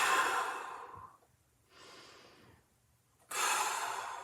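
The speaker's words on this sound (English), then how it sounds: "2 big breaths into your back." Deep breaths during a mobility exercise: a long, close exhale, a softer breath, then another strong breath, alone with no talk.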